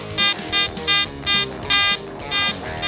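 Metal detector giving its low iron signal, a series of six or seven buzzy repeated tones in an even pulsing rhythm, close and fairly loud with no talking.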